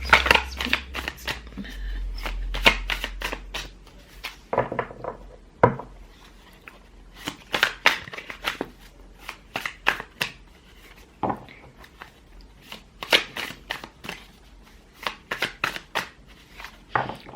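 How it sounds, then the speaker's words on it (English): Tarot cards shuffled by hand in a quiet room, a dense run of crisp riffling and flicking bursts that come in repeated close clusters with short pauses between. "it's like I have to shuffle a lot"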